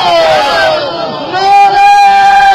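Crowd at an outdoor religious rally for Eid Milad un-Nabi, shouting answers to slogans in a loud, massed roar of many voices that swells and holds.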